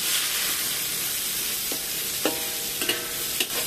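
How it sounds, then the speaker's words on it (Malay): Sliced shallots frying in a pan, giving a steady bright sizzle throughout with a few soft scrapes and clinks of stirring near the end, and no voices. "Goreng sampai bawang merah ini"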